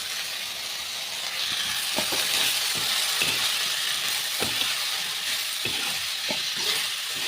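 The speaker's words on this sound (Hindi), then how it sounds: "मुनगा को थोड़ा सा भून लेना है।" Pieces of moringa drumstick roast in a hot pan in a village kitchen, giving a steady close sizzle and hiss with occasional soft stirring taps, no voices.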